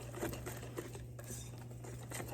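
A wire whisk beats cornmeal pudding batter in a bowl, making a steady run of quick, light metallic patters and clinks at close range with no talking.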